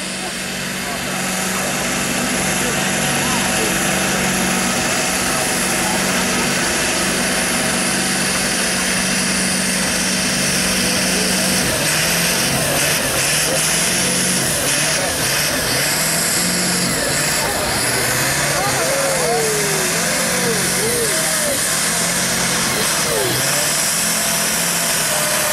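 Tractor engine roaring under load during tractor pulling at the Great Dorset Steam Fair, wheels spinning, a loud sustained drone that rises and shifts in pitch for the whole stretch while a commentator talks over it.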